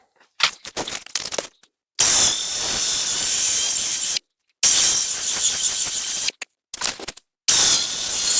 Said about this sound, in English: let me get the rest of the vines drilled here